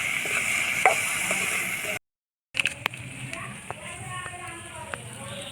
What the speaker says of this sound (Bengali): এখন এটাকে আমি ভালো করে ভাজা করে নেব, একটু লাল লাল করে ভাজা করে নেব।